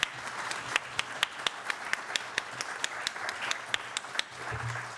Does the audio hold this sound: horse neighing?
no